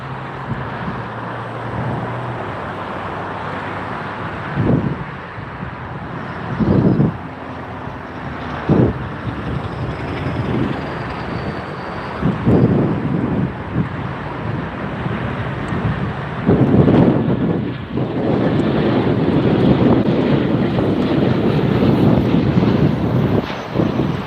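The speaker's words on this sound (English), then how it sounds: "Coming in from Boston, this is the 737-800 Delta SkyTeam livery." A Delta Boeing 737-800 jet arriving at Tampa airport, its broad engine roar swelling under steady wind noise and building loudest toward the end of the approach.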